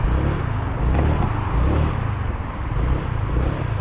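Honda PCX 125 scooter engine running with a steady low drone and mild rises in revs, close and fairly loud with no talking.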